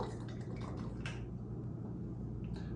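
Red wine vinegar poured into a container for a vinaigrette, a short run of liquid trickling and dripping with a few splashy bursts, close and moderately loud with no talking.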